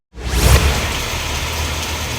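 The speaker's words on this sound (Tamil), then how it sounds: "இந்த நிலையில் பகலில் மழை கொட்டி தீர்த்தது" Heavy daytime rain pours down steadily in Salem's Attur area, a dense broadband wash of falling water that starts abruptly and holds loud and continuous with no voices over it.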